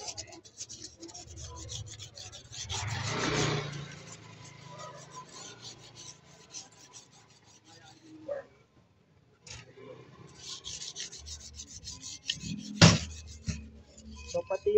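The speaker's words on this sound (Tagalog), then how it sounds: "so ito, pumilas tayo ng liha" Sandpaper is rubbed by hand against the rusty steel rim and spokes of a Bajaj CT 100 motorcycle wheel, giving close, dry rasping strokes in bursts separated by brief pauses, with a sharp knock near the end.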